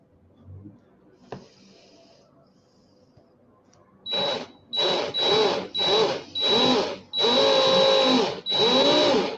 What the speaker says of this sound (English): I'm just going to wrap a coil with the drill.